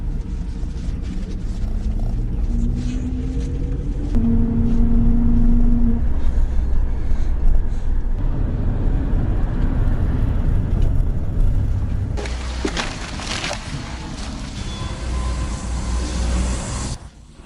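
A city bus ride in Russia toward the South railway station, with a continuous low rumble of engine and road noise, shifting tones as the bus moves and a brief clunk partway through, no talk.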